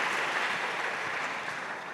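Audience applause at a world religions summit session, a steady wash of many hands clapping together, continuous and even throughout, with no voices over it.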